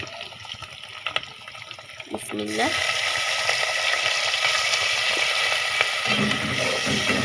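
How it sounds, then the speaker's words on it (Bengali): Water poured onto frying dried churi fish in a pan: a moderate sizzle with stirring, then a splash and a sudden louder, sustained hissing boil. "ছুরি শুটকি এটা ওই তো এটা ভাজা হয়ে গেছে এখানে আমি এখন পানি দিয়ে দিব একটু করে"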